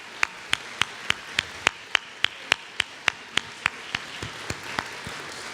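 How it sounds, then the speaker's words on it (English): Applause from a concert audience at a showcase event, heard as a steady run of sharp, evenly spaced claps, fairly close and clear, fading slightly toward the end with no talking. "Let's give them all a round of applause."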